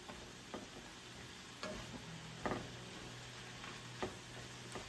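A meat mixture cooking in a pan for Joe's Special, a low steady sizzle broken by several sharp utensil taps and stirring clicks.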